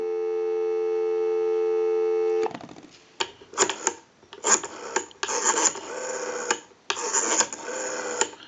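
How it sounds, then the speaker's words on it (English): A Western Electric 500 rotary desk telephone emits a loud, steady dial tone for a couple of seconds. It cuts off abruptly and is followed by several rough, scraping bursts of handling noise. "Give you some dial tone."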